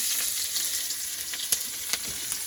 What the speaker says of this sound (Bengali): মাংস রান্না করবো তো মাংস রান্না শুরু হয়ে গেলো